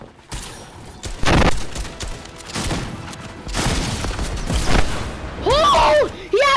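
Bursts of fire from a burst quad launcher in Fortnite, several sharp blasts spread across the moment, mixed with game effects and excited voices talking.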